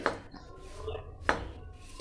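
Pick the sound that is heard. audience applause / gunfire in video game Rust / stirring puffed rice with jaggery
stirring puffed rice with jaggery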